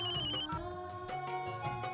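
A telephone ringtone plays in a Hindi TV drama scene, a repeating melodic electronic tone with regular pulses, loud and close, with no talk over it.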